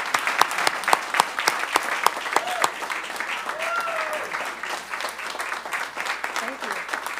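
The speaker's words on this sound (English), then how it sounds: "We have a clap for you." Applause at a Bristol Township Council meeting honouring a retirement, with sharp individual claps standing out over a smaller group's clapping, and voices talking through it.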